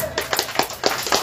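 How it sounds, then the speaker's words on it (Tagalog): A few sharp handclaps ring out at a Christmas party, quick and fairly close, in a brief uneven burst. "Kailangan ko ang masigabong palakpakan yun."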